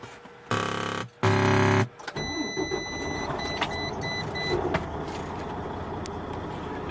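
A 2014 Freightliner Cascadia truck engine warming up, a steady low diesel idle heard close, opened by two loud tonal beeping bursts, with faint clicks and a whine above the drone.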